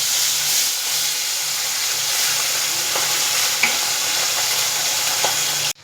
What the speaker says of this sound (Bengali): এবার ভালো করে লাল লাল করে মাছটা ভেজে নেব।